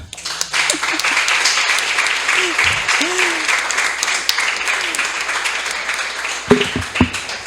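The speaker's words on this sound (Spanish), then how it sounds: "pero yo creo que merece un aplauso." An audience applauds throughout at a magazine presentation event at Casa de las Américas, steady dense clapping with a few brief voices and sharper claps breaking through near the end.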